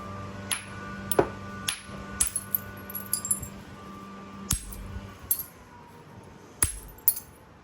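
Flint-like Texas rock is knapped into a biface, with sharp, ringing clicks and taps struck at irregular intervals, some in quick pairs, close and crisp over a quiet background.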